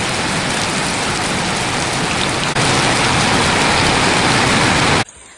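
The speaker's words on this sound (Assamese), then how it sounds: "এনেকুৱা ধৰণৰ বৰষুণ দিলে" Heavy rain falling at night in a village, a loud, dense, continuous hiss of drops on surfaces that holds steady before cutting off abruptly near the end.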